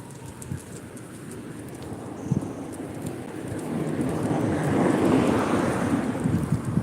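Steady wind gusts buffet the area, building to a louder roar midway and then holding. No one speaks.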